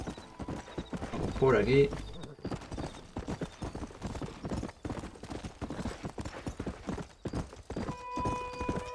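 Horse hooves clip-clopping steadily in Red Dead Redemption, a continuous rhythmic trot close by with a brief whinny early on, while someone talks over it briefly.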